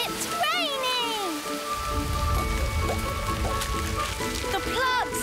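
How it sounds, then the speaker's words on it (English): Cartoon rain falling as a steady broadband patter that sets in after a brief pause and continues under light musical sparkle, with children's voices chattering over it. "It's raining!"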